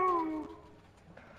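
A short, falling cat meow from the video game Saints Row IV sounds close and clear at the start, then fades into low background noise.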